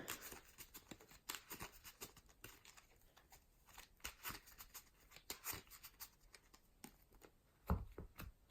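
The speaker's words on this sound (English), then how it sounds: "But Skuldred, let's go ahead and give this a quick shuffle and a cut." A deck of trading cards is quickly shuffled and cut by hand on a table, a run of soft irregular riffles, slaps and taps, faint and close, ending in a firmer knock.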